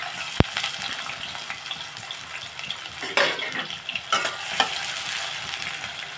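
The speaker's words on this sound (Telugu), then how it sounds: "ఆయిల్ వేస్తాను కదండి. ఇప్పుడు ఇందులో ఉల్లిపాయలు వేసేద్దాం." Sliced onions frying in hot oil, a continuous bright crackling sizzle with a sharp tap at the start and a few stirring scrapes later, close and without talk.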